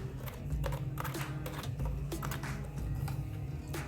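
Typing on a computer keyboard at a desk, quick clusters of light clicking keystrokes tapped close by in short, irregular bursts with no one talking.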